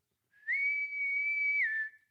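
A person whistles an imitation of a naval bosun's whistle: one clear, sustained, steady tone that rises at the start and drops at the end. It is close and loud, with no talking over it.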